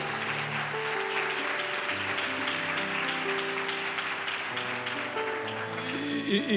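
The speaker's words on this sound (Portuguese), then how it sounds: "Pode aplaudir." Steady applause from a church congregation, dense clapping filling the room while sustained organ-like music plays underneath throughout.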